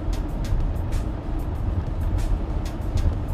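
Inside a Mazda RX-7 FD cruising at 100 km/h, a continuous rushing of wind and road roar fills the cabin, with low rumble and faint hissy gusts, steady and fairly loud.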